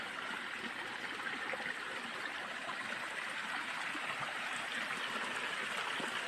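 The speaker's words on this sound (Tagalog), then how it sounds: "Ayan po yung waterfalls." A waterfall gives off a steady, even rush of falling water, faint and distant, with no break and no voices.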